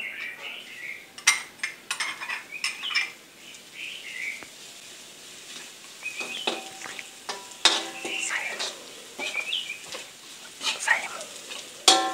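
Garlic sizzles and fries in hot oil in a pan, a soft continuous crackle broken by spatula scrapes and clinks of stirring against cookware.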